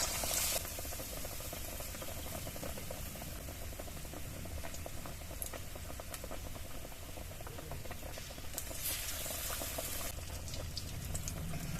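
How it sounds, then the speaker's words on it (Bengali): Raw mango chops sizzle and bubble in hot oil, a steady, close frying crackle that continues unbroken without talk. "তেলটা গরম হয়ে গেছে, এবার চপগুলো ছেড়ে দিয়ে ভেজে নেব।"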